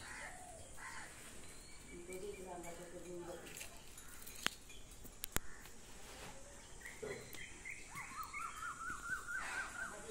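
Scattered bird calls, including a crow-like caw, sound at moderate distance around a village house in Khed, Konkan, ending in a quick run of repeated chirps, with a voice talking nearby.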